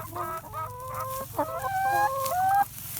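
Chickens clucking and squawking close by in a rapid, rising and falling run of calls, loud and with no talking.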